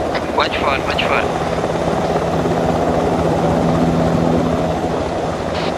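Helicopter in the Arma 3 video game, a steady rotor drone holding throughout, with brief voices talking over it near the start.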